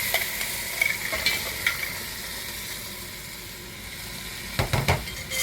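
Marinated crab mixture hits a hot pan for a spicy village-style crab curry, giving a continuous sizzling hiss with scattered metal clanks and a louder burst of spattering near the end.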